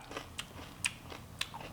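Bites into crunchy food during a taste test: a few sharp, brief crunches spaced irregularly, close and fairly quiet, with soft chewing between them.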